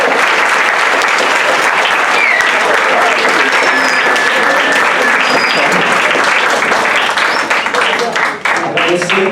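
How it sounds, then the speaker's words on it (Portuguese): An audience at a theatre and literature workshop applauds steadily and loudly, a dense wash of clapping sustained throughout and tapering slightly at the very end. "Eu gostaria muito de pedir também os aplausos para ele"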